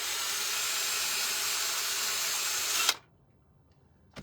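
A power drill bores a hole in a painted Valentine's piggy, a steady whirring hiss for about three seconds that cuts off abruptly, followed by quiet and a small clunk.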